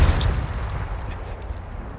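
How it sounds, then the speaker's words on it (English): Deep grenade explosions in the battle royale game Super People, a heavy booming blast at the start trailing into a rumbling, rolling decay, loud and close with no talk over it. "They're throwing nades. I'm nading."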